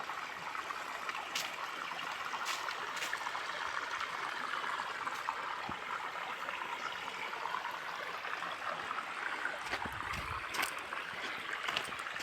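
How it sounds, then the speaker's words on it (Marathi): An upper river near a traditional Konkan fishing spot flows with a soft, steady rush of water, faint and continuous, with scattered small clicks and a brief low splash near the end, and no one speaking. "ही आपली वरची नदी आहे"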